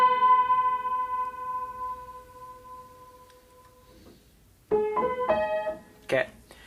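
Piano plays the opening notes of a song: a long, quiet held note rings and fades, then two more notes are struck close together near the end, followed by a short voice.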